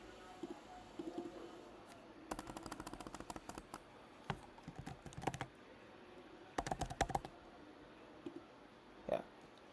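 Fingers tap out bursts of keystrokes on a computer keyboard, close and clicky, in two quick runs separated by quieter pauses with a few isolated taps.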